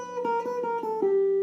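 A guitar picks the Killer Klowns from Outer Space riff: five quick plucked notes in an even rhythm, the last one left ringing, close and clear with no talk.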